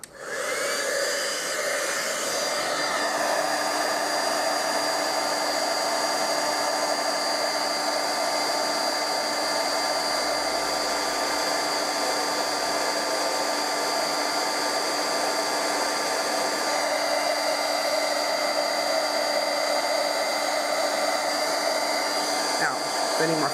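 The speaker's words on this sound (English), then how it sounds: "So now I've got some white embossing powder. I'm just going to quickly emboss this." A heat tool blows a loud, steady, continuous whir while melting white embossing powder on a handmade botanical greeting card, running without pause and with no talk over it.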